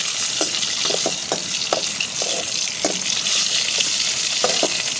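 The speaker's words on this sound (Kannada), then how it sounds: "ಅರ್ಧ ಟೀ ಸ್ಪೂನ್ ಆಗುವಷ್ಟು ಮೆಂತ್ಯ ಹಾಕಿ ಹೊಲ್ತಿದ್ದೇನೆ. ಇವಾಗ ಇದನ್ನು ನಾವು ಚೆನ್ನಾಗಿ ಎಣ್ಣೆಯಲ್ಲಿ ಫ್ರೈ ಮಾಡುವ" Fenugreek seeds, about half a teaspoon, frying in oil for a tomato saaru, giving a steady close sizzle with faint crackles and stirring scrapes throughout.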